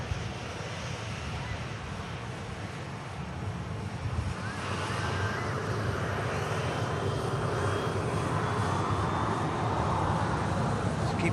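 An Atlas Air Boeing 747 departs, its broad engine roar building partway through and staying loud and close to the end, with a faint rising whine over it.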